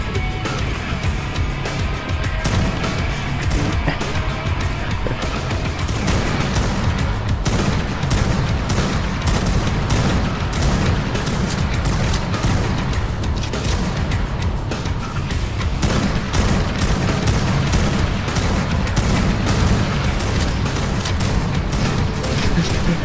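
Dense, continuous gunfire in ARK: Survival Evolved, including shotgun blasts, with rapid overlapping shots and loud bursts running throughout under occasional background voices.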